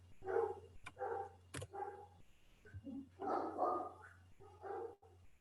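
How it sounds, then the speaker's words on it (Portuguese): A pet dog barking repeatedly indoors, several loud yappy barks in quick bursts with short pauses between them and a steady low hum underneath. "O cachorro vai latir um pouquinho,"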